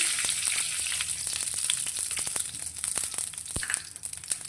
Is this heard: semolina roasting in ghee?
yes